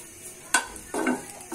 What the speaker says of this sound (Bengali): এই যে এখানে রসুন পেঁয়াজ শুকনা মরিচ কাঁচা মরিচ ভেজে নিচ্ছি